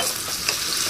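Ginger-garlic paste with turmeric and curry leaves stirred and frying in hot oil for tomato and radish rasam, a steady close sizzle with brief scraping stir sounds, no talk.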